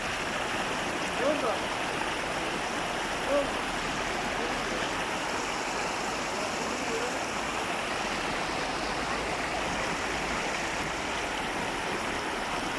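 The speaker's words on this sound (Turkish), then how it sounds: "Bursa Kestel Şelalesi dedik. Uludağ'dan gelen su." Steady, full roar of Kestel Waterfall in Bursa, Turkey, fed by water from Uludağ, close by, a dense rushing wash of water that stays constant throughout.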